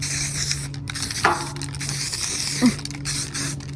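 Short hissing spray bursts coat a PS5 controller in paint, close and steady against a faint background hum, with a couple of brief handling bumps.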